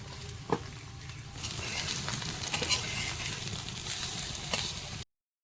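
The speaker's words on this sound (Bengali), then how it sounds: "বড়াগুলো ভাজা হয়ে গেছে" Vegetable fritters made with potato leaves and carrot fry in hot oil, giving a steady close sizzle with a few sharper spatters and stirring clicks before the sound cuts off.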